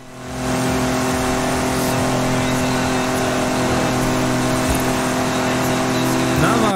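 A race car engine in the Forza Horizon racing game roars steadily at full throttle for the whole stretch, loud and sustained with a constant harmonic drone, and a voice talks faintly underneath.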